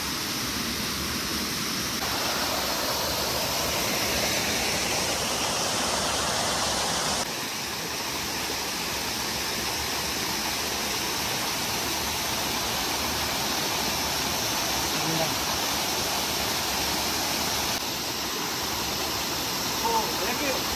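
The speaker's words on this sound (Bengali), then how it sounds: "প্রচন্ড ঝর্ণার আওয়াজ, আমরা জানি না তোমরা শুনতে পাচ্ছ কিনা।" A roaring hillside waterfall a few minutes' walk from a homestay near Darjeeling pours as a loud, continuous broadband rush that holds steady throughout with no pauses.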